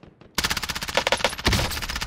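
Rapid automatic gunfire in the video game Call of Duty Warzone bursts in after a quiet start and keeps going as a dense, loud, continuous volley.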